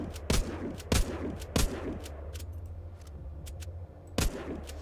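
Gunfire in a zombie shooter video game: sharp, loud shots crack out at irregular intervals, about five or six spread over a few seconds, over a steady low in-game rumble, with no talking.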